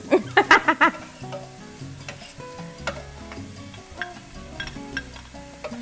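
Bell peppers sizzle in a pan while a utensil clatters and stirs, with a burst of sharp scraping clinks near the start and lighter taps after.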